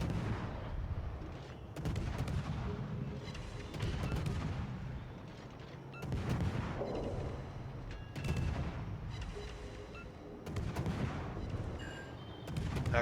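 Heavy naval gunfire in a warship battle game featuring a Royal Navy destroyer line, with deep booming salvos at irregular intervals every couple of seconds over a constant rumbling background, no voices.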